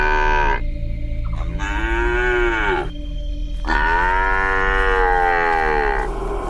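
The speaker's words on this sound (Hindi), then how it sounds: "ठीक उसी वक्त पीछे से एक बछड़े की आवाज सुनाई देती है।" A calf moos in long drawn-out calls, several bellows in a row over a steady low background hum, loud and close with no speech.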